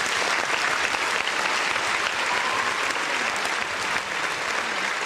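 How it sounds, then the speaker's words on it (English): Steady, dense applause from a crowd claps continuously at an even level throughout, with no voices standing out. "Round of applause to Christian McCaffrey."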